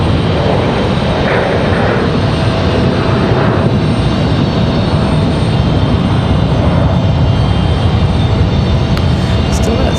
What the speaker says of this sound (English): Even liftoff for this E-175.